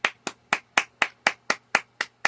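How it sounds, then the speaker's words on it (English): Hand clapping, ten crisp claps in a steady even rhythm, close and clear with nothing else heard. "That clap is for you."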